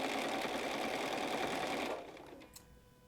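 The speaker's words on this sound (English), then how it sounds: "So we're just stitching all the way around here." A sewing machine stitches around the edge of a Cuddle pillow with a steady, loud, close whirring run that stops abruptly partway through and leaves quieter room sound.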